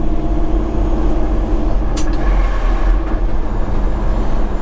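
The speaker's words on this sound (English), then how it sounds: "That's the truck's transmission making a noise." A truck's transmission drops a half gear, a loud steady drivetrain hum and road rumble from inside the cab with a short sharp mechanical click near the middle.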